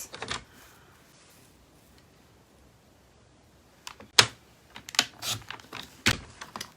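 A paper trimmer slices card to 9.5 centimetres, a few sharp close cuts and clicks in a quiet room after a long near-silent pause, with no talk.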